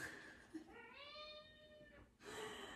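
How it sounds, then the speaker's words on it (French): A cat arrives and gives a clear, drawn-out meow lasting about a second, close and fairly quiet indoors, with faint talk before and after it. "mon chat assistant vient d'arriver"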